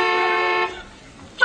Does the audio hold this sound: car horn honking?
yes